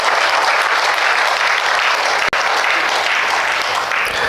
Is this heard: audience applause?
yes